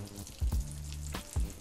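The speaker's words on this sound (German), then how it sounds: "dass ihr eine richtige Pfanne zum Braten nehmt." Breaded chicken breast fries in oil in a pan, a faint steady sizzle broken by a few louder thumps and clatters of handling.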